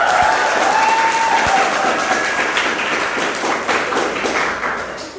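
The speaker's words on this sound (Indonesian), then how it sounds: "Tepuk tangan lah untuk mereka." Classroom audience applause for a student group rings out as dense, steady clapping, loud at first and tapering off gradually, with a faint voice briefly audible beneath it.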